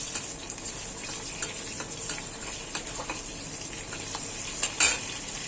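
Shrimp and onion paste fry in oil in a pan, giving a steady close sizzle with faint stirring scrapes and a brief louder crackle near the end.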